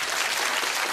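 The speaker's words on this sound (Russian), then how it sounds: "Ваши аплодисменты, Виктор Ющенко." Dense applause from a studio audience at a comedy show, steady and loud for the whole second, with no voices on top.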